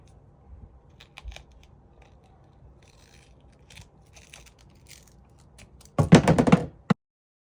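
Scissors cut through material while making a DIY ice cream Blitzball bat, a dense burst of close snipping and rustling for about a second near the end after quiet handling noises.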